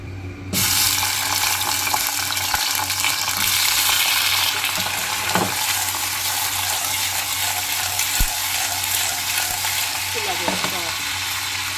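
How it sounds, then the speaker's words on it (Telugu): Steady, loud sizzling of ivy gourd frying in oil, a dense crackling hiss that runs throughout with a few faint clinks. "ఇప్పుడు ఆయిల్ వేసి వాటర్లో తీసిన దొండకాయలు వేసా"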